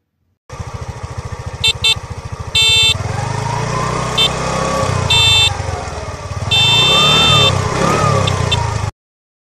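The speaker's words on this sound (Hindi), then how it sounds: "अपनी बाइक में बाज का पीछा करता है" A cartoon motorbike engine revs and whines loudly in a chase, with rising and falling pitch sweeps and bursts of higher-pitched sound effects, and no talk.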